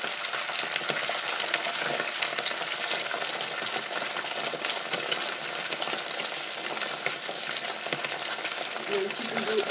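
Tomato sauce sizzles and spits steadily in a hot frying pan for chicken wraps, a dense continuous crackle with occasional stirring scrapes, close and fairly loud.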